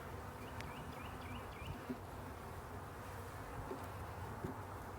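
Honey bees drone steadily during a hive inspection, a soft continuous buzzing hum close to the microphone, with a few louder passes of individual bees flying nearby.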